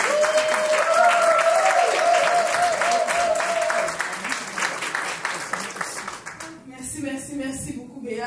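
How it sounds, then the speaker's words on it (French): Applause from an audience greeting the mayor of the Côte-des-Neiges borough at a community event fills several seconds with dense clapping. It thins out toward the end as a voice begins speaking. "on va acclamer la mairesse de l'arrondissement des Côtes-des-Neiges"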